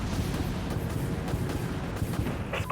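Sustained booming gunfire and heavy impacts from a naval combat video game, a torpedo salvo rumbling continuously and loudly with dense low thumps throughout, with no talking.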